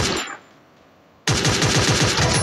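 Gunfire in a shooting video game: a burst fades out, then after a short lull a loud rapid automatic volley rattles on steadily, close and without talking.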